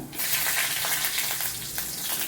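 Fenugreek seeds and a dried red chili sizzle in hot oil, with mustard seeds, while tempering spices for a theeyal; a steady, close, crackling hiss with no talking.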